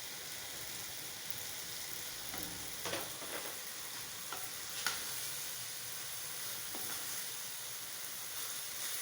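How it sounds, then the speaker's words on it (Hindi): Vermicelli pasta sizzles and fries steadily in a hot pan as it is stirred, a continuous close hiss with a few scraping clicks, no talking. "अभी इसमें ऐड करते हैं पास्ता सवैयाँ और ये डाल दी हैं पास्ता सवैयाँ"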